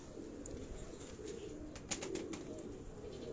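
A single pigeon coos softly and faintly, low and murmuring, with a few small clicks and rustles around it.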